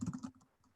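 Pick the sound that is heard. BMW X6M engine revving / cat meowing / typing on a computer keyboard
typing on a computer keyboard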